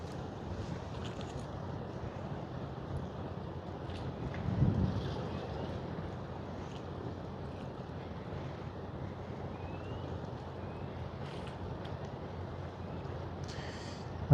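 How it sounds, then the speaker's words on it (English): Light water slapping and rippling at Port Canaveral forms a faint, continuous wash with soft wind noise over the microphone and a brief, slightly louder swell midway. "the light slapping of the water is so very calming"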